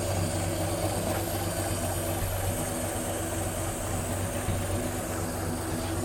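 A Jeep Willys engine idles steadily with the hood open, a continuous low rumble with a constant hum and no voices over it.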